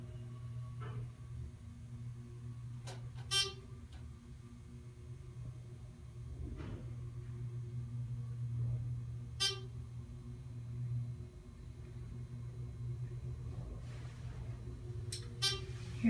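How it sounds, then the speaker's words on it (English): A Dover/Marshall oildraulic elevator motor in a Pittsburgh building hums steadily and faintly at a low pitch, with a few sharp clicks and knocks over the top. "Now let's listen to the motor."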